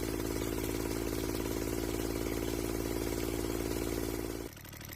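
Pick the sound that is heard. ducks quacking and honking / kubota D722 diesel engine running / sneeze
kubota D722 diesel engine running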